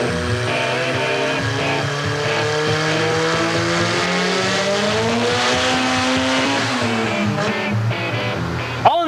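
A race car engine runs steadily and loudly on a dynamometer, a continuous close roar whose pitch climbs and drops as it revs, with no talk over it.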